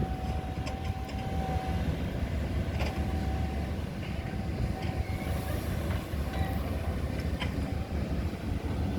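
A CAT 320D2 excavator of about 21 tons, with a C7.1 engine, runs with a steady, loud diesel drone and low rumble that holds unchanged throughout, with no voices over it.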